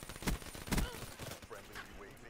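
Hip-fire gunshots in a video game, two sharp, fairly quiet shots close together followed by softer clatter and game sounds, with a voice faintly in the background.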